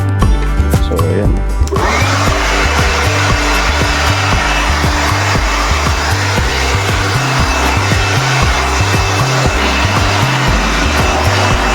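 A loud electric air blower switches on and runs steadily with a constant whirring roar, close and unbroken.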